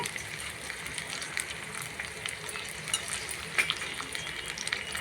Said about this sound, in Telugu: బాగా వేగించాలి.